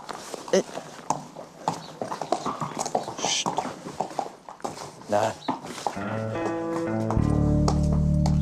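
Hooves clip-clop in an irregular rhythm on a hard surface while a person talks over them, and music rises near the end.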